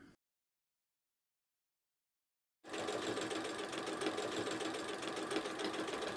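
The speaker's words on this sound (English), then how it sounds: "I'm going to carry on sewing in this way until I've sewn right down through the centre of my quilt" After a near-silent pause, a sewing machine starts stitching lines through quilt layers and runs at a steady, even whirring clatter, close by, until the end.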